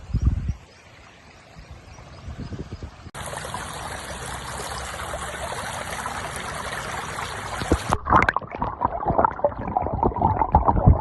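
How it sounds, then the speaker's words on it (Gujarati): Rainwater running through a farm field after heavy rain, causing damage: a steady rushing, trickling flow of water close by, with a brief noisy start and rougher splashing bursts toward the end. "તમે જોયું જશે પાણી જાય છે આપણી ખેતરમાં"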